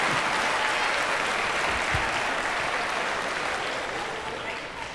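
Audience at a comedy show bursts into loud, sustained applause that holds steady for several seconds before gradually thinning out toward the end.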